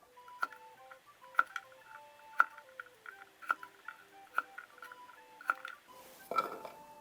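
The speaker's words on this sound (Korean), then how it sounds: "닭똥집이 잘 절여질 동안 마늘 썰어 보겠습니다" A kitchen knife slicing fifteen garlic cloves in half on a cutting board, sharp crisp taps coming one by one at a steady rhythm about a second apart, close and clear with a soft faint tone beneath.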